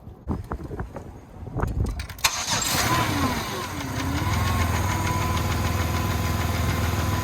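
A 255,000-mile Pontiac Grand Prix engine being held at steady revs around 2000 RPM during a Sea Foam treatment, after a few clanks and shuffling at the start, then rising to a loud, sustained drone with a faint wavering whine.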